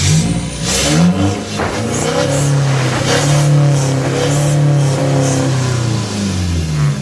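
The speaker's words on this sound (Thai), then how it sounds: "เดี๋ยวเดี๋ยวมาฟังเสียงท่อครับ ว่าเอ่อว่ามันจะดังขนาดไหน" A 2020 car with modified exhaust pipes revs hard close by. The loud engine roar rises and holds, with a deep, throbbing note and raspy pipe noise, and no voices are heard.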